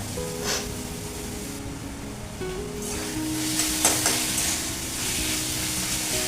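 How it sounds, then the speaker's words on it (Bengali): Onions and chicken fry in a pan for a light chicken curry, giving a steady close sizzle with occasional stirring scrapes throughout. "হালকা করে ভাজা হয়েছে, এই যে পেঁয়াজটা এরকম মোটামুটি একটু লালচে হয়েছে"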